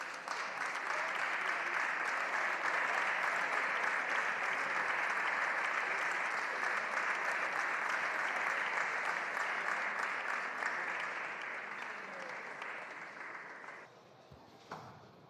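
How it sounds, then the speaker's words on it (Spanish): Sustained, dense applause from a large audience in a parliament chamber, loud and steady for most of the stretch before thinning and fading out near the end. "Ojo con los aplausos, señor Sánchez."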